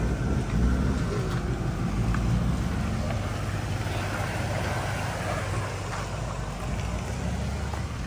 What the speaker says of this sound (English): Hearing Matt rev a lot, must be something good coming up.